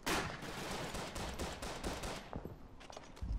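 Rifle fire in the World War I shooter Verdun, set on the Western Front between 1914 and 1918: a rapid series of sharp, loud gunshot cracks with echoing tails, packed densely together and then tapering into sparser distant shots.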